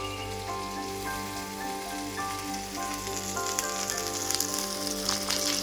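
Potatoes frying in a pan with ginger paste, a steady crackling sizzle with faint scattered pops running throughout, moderately quiet and with no talking.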